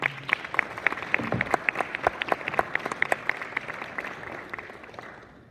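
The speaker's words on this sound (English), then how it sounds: "So let's give them a round of applause, can we?" An audience at a school JAG initiation and installation ceremony claps steadily for the students, individual sharp claps standing out over the crowd before the applause tapers off at the end.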